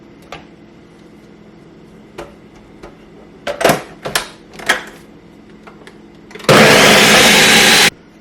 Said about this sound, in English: I'm going to put all this here in the blender.